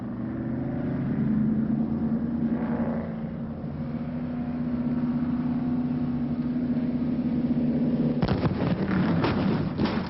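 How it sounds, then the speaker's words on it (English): A stunt car slides a long way on a slippery surface after flipping off a ramp, a sustained grinding, scraping rumble that holds steady for several seconds before giving way to sharper crunching and clattering near the end. "The car slid a nice long way"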